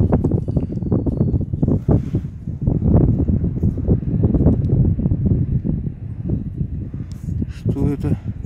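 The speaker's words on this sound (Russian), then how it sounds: "Опять, друзья, поднялся ветер, пошел дождь" Heavy wind buffets the microphone in low, gusty rumbles throughout, with rain starting, and a voice speaking briefly near the end.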